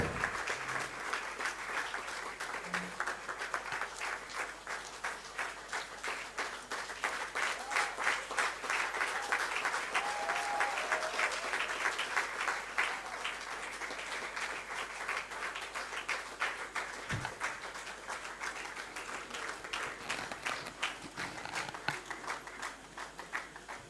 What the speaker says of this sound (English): Please keep clapping as he makes his way to the stage.